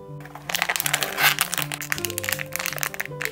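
Crinkling and crackling of a plastic blind-box figure package being torn open, a dense close rustle of wrapper handling under soft background music.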